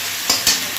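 Spice paste for a fish curry fries in a pan with a loud, close sizzle and two quick stirring scrapes in under a second.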